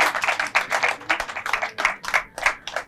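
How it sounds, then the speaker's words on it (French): Applause from a live show audience comes as a steady, fairly close patter of hand claps with rhythmic bursts, a few hands clapping roughly in time, with no talk over it. "On applaudit encore, on applaudit."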